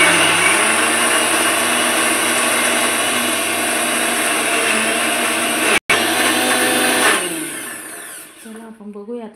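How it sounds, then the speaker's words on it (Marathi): A kitchen mixer grinder whirs loudly and steadily, grinding protein chilla batter with water, then winds down and cuts off near the end. "चला तर मग आपण आता मिक्सरला बारीक करून घेऊया।"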